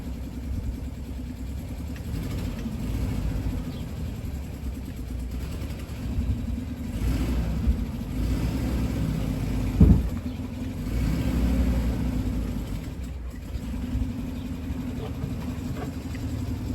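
An old car that has just been revived starts moving off in first gear, its engine holding a steady low rumble with a brief louder rev partway through, and faint voices in the background.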